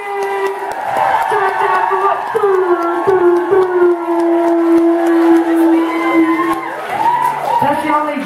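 A comedian's voice imitates a DJ siren noise at a stand-up show, a sustained wailing tone that rises and dips in long sweeps, with crowd cheering and whoops around it.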